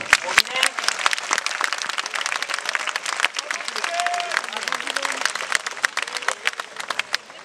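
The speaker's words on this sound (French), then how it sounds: "Vous pouvez l'applaudir" A crowd at an outdoor cherry festival claps for the crêpe maker. Sharp individual claps sound near and sustained over several seconds, with a voice talking faintly underneath.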